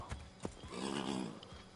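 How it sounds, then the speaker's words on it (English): In the Assassin's Creed 3 video game, a horse gives a brief whinny amid clip-clopping hooves, close and fairly clear. "No, Get back on the horse, Connor."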